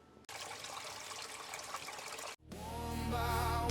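Water runs steadily through a gold prospecting sluice as wet dirt is washed, a broad continuous rush that cuts out briefly, then returns louder and fuller with a bubbling, flowing quality.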